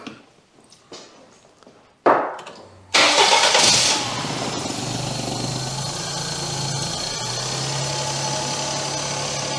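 A cold Daihatsu Sirion with its throttle disconnected cranks briefly after a few clanks, fires, flares up loudly, then settles into a steady, slightly high idle heard close up.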